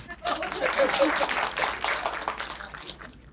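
Children clapping at a talk, a steady rush of many hands applauding together, moderately loud and continuous, thinning toward the end, with voices mixed underneath.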